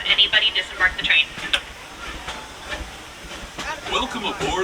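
A Disneyland Railroad steam train gives short hissing bursts and metallic clanks, with rolling rail noise underneath, while people talk nearby.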